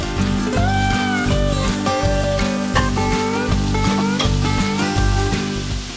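Steady, loud sizzling of small chicken pieces frying in a hot pan, with crackles and light scraping throughout and no talking.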